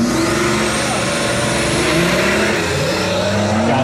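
A BMW diesel races a VW Polo down a drag strip, with loud engine revving and pitch rising in a short, intense burst of acceleration.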